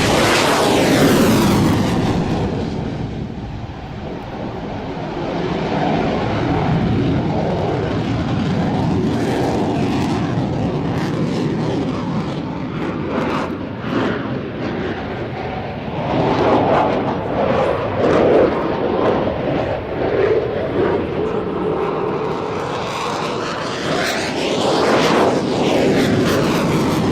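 A military aircraft with landing gear down roars past in a near touch-and-go landing, engine noise swelling loud and sustained, then surging again as it climbs away.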